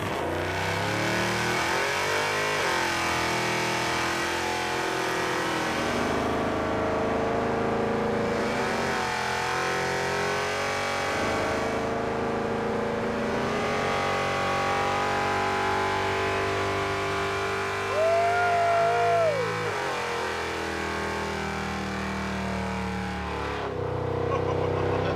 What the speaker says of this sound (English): I feel obligated to do a burnout in the muscle truck.